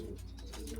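A bandangan pigeon, a hen that has already laid eggs, gives soft low cooing notes up close, quiet and brief against faint background noise.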